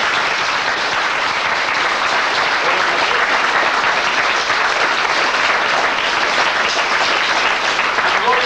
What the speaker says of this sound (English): Give them a round of applause then